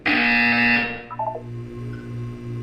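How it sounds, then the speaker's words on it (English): A loud electronic buzzer from the video game Portal 2 blares for about a second, a harsh steady tone that cuts off into a lower lingering hum with a few brief blips. "You will hear a buzzer."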